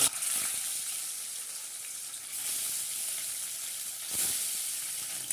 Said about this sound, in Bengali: এবার এখানে মাছটা দিয়ে মাছটাকে ভেজে নেব।